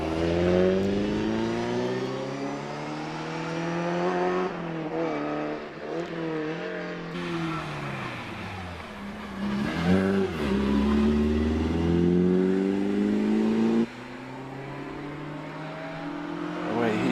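A Porsche Boxster 986S with a 3.2-litre engine races uphill at the Prescott hill climb, its flat-six rising and falling through gear changes in long revving sweeps, loud and close, with no voices over it.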